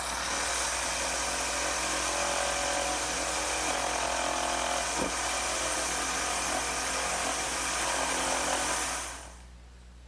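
A power saw runs continuously, nibbling out leftover mortise material in wood for a rocking horse, a loud steady motor roar lasting about nine seconds before winding down.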